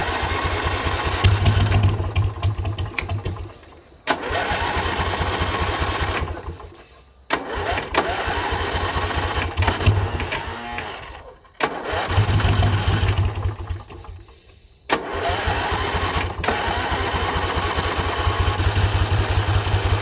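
Hot rod tractor engine cranking, catching and running rough on choke, a loud close throbbing idle that cuts out and restarts several times with brief quiet gaps and no talking.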